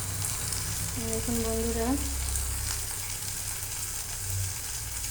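Spice paste and potatoes frying in a pan, a steady sizzle running throughout, with a person speaking briefly near the start.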